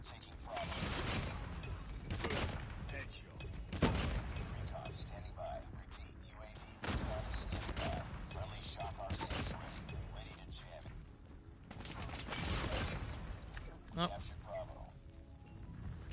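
Arctic 50 sniper rifle fire in Call of Duty Mobile, several heavy, widely spaced shots with bolt-cycling clanks between them, under frequent excited talk among players.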